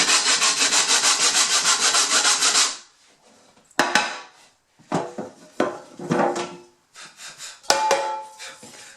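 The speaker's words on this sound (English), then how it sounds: "I'm going dry sanding." Dry sanding the warped bottom of an aluminum dish glued to an MDF board: a loud, steady back-and-forth rasping for about three seconds, then shorter irregular scrubbing strokes with brief pauses.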